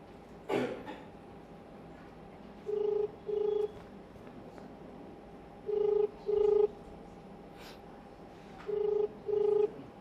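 A telephone rings in three clear double-burst pairs with quiet pauses between, after a short cough-like sound at the start.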